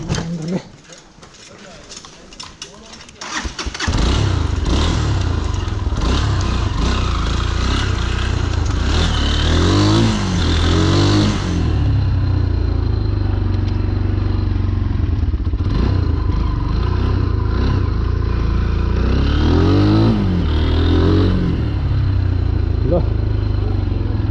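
A motorcycle on a ride to Dupcheshwor Mahadev in Nuwakot stays quiet for a few seconds, then its engine bursts into a loud, close, rough idle that swells into repeated throttle revs.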